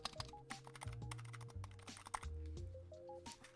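Someone types on a mechanical keyboard with Cherry MX Brown switches, making a steady, fairly quiet patter of keystrokes over a low hum in the background.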